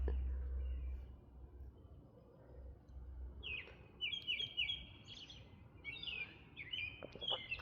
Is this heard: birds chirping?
yes